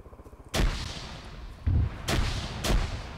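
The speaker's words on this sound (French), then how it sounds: "ça tire dessus à coup de grenade là" Grenade blasts and gunfire in a King of the Hill war video game, a burst of fast shots leading into several loud heavy booms, close and echoing, with no voices.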